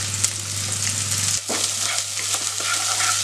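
Onions sautéing in a pan for a Muslim-style brinjal curry, a steady close sizzle with a low hum in the first part and a few scraping stirs, no voices.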